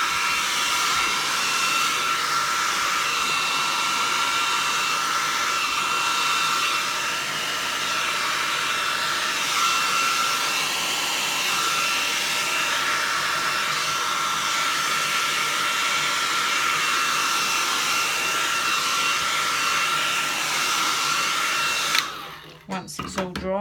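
Continuous airflow, like a hair dryer, blows across an alcohol ink painting with a steady whirring hum that cuts off abruptly near the end.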